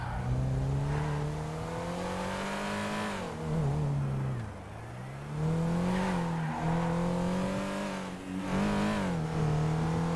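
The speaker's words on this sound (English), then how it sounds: "Car sounds cool." A car engine in the video game MetaWorld, revving in long rising and falling sweeps, loud and close, with no talk over it.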